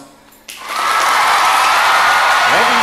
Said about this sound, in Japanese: どうぞ皆様の盛大な拍手を持って迎えたいと思います。